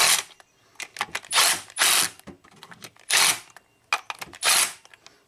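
A ratchet wrench clicks rapidly in bursts as bolts are screwed back in on a Volvo engine, close and crisp, with short pauses between runs of ratcheting.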